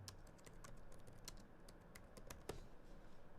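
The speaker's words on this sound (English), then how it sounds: "I was typing." Quiet, rapid clicking of keys on a computer keyboard, a steady patter of individual keystrokes with one sharper tap near the end, faint and close.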